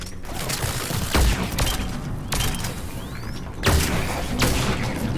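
Explosions and gunfire in the Mass Effect 3 video game, a sustained rumbling barrage with several heavy booming bursts spaced through the combat noise, loud and close.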